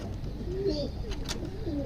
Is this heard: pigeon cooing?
yes